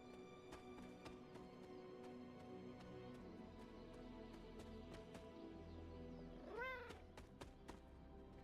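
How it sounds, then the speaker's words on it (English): A single short cat meow in the video game Marvel's Midnight Suns rises over steady clip-clopping footsteps and quiet background music, faint and brief. "I heard a meow."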